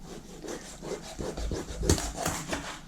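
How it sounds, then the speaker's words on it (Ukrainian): A knife cuts conger fish into small pieces with a quick run of close, rhythmic rasping strokes against a board. "Ріжу на невеликі шматки."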